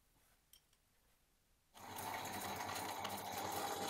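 A metal lathe starts cutting a thread in the bore of a 6mm-thick washer with a high-speed steel cutter, the compound set at 30 degrees; after quiet shop air, a loud steady mechanical whirr with rapid chatter begins midway and runs on.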